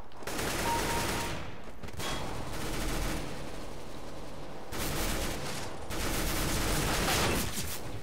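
Rapid automatic gunfire fills the CS GO match, with sustained bursts and dense fusillades broken by a couple of short pauses, loud and close throughout.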